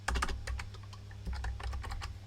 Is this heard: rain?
no